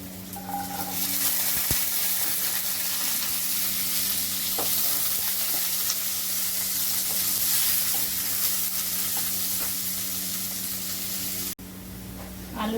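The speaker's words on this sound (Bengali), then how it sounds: "আলুটা ভাজা ভাজা হয়ে গেছে" Potatoes frying in a pan with cumin and ginger, a steady close sizzle with occasional stirring scrapes, continuous and fairly quiet, no talk.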